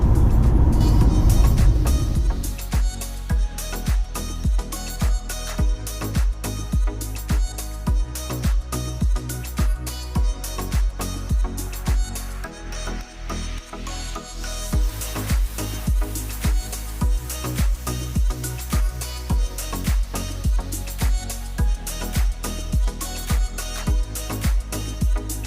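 A Tata Punch with a 1.2 petrol engine and manual gearbox cruises on an Indian expressway, its steady road and engine drone running continuously with a regular rhythmic thumping from the road surface.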